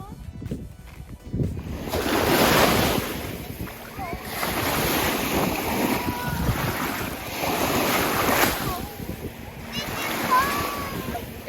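Strong wind gusts roar across an open beach, buffeting the microphone, with surf washing in the background and people talking faintly beneath the noise.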